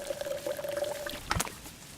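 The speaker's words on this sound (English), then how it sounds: "That's how you pour water in DayZ." Water poured in the survival game DayZ, a short splashing burst of liquid lasting about half a second, preceded by a faint steady tone, heard alone at moderate distance.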